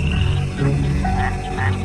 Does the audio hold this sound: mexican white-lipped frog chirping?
yes